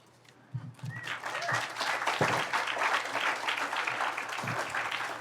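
An audience claps after a poem reading at a summer literary gathering, a warm burst of applause that holds steady for several seconds, with a few louder individual claps standing out.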